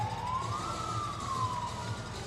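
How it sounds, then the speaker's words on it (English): Siren wailing inside an indoor arena during a women's soccer friendly, a single rising then falling electronic tone over a steady crowd murmur, moderately distant. "Cowbells and sirens blaring."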